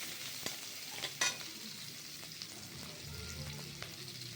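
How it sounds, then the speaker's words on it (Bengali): Garlic and green chilies fry lightly in oil with a steady, fairly quiet sizzle, broken by a few short clinks and scrapes of stirring, with no voices. "এগুলো হালকা ভাজা হবে, রসুনটাও হালকা ভাজা হবে,"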